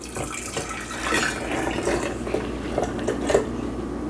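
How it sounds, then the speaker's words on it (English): Milk pouring steadily into a jar, a soft trickling stream with a few small splashes, close and moderately quiet. "And then we just need to carefully pour it in."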